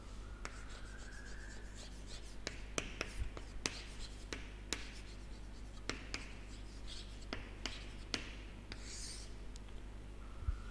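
A marker or chalk scratches across a board during a physics lesson, with short separate strokes and taps at irregular intervals, faint and close over a low steady hum, with occasional quiet speech.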